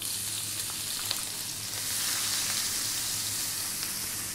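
Chopped onion dropped into hot sunflower oil in a pan over high heat gives a loud, dense, continuous sizzle and crackle with faint stirring, unbroken by talk.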